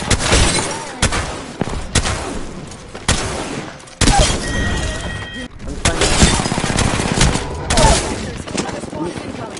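Rapid video game gunfire in Apex Legends, with bursts of shots, booms and shattering impacts crackling loudly throughout, mixed with someone talking excitedly over the action.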